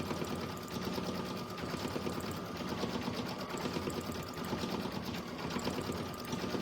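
A sewing machine stitches with pink thread, a steady, continuous mechanical whir and rapid needle chatter running without pause, fairly quiet and alone.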